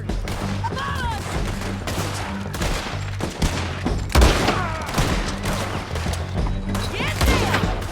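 A chaotic Red Dead Redemption shootout crackles with dense overlapping gunshots and heavy booms, while voices shout throughout the firefight.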